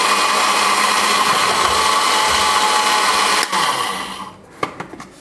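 A mixer grinder whirs loudly and steadily as it grinds chaat masala spices on medium speed, then cuts off near the end, leaving a few light clicks and taps from the jar.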